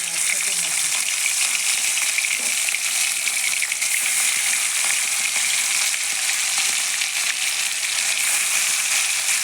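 Fish sizzling in hot oil in a wok for an Odia fish curry, a steady, loud, dense crackle and hiss throughout with no pauses.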